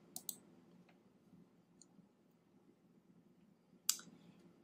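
A few sharp computer mouse clicks in a quiet room, two quick clicks at the start and another crisp click near the end, with soft faint ticks in between.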